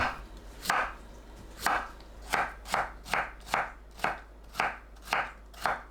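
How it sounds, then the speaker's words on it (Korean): A knife julienning cucumber on a cutting board, about ten crisp, evenly spaced strikes with brief pauses between, close and clear with no talking. "오이를 채 썰어주세요."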